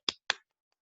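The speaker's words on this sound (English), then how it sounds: "Do you hear the sound of my clapping?" Two quick, sharp hand claps close by, evenly spaced about a quarter second apart, followed by silence.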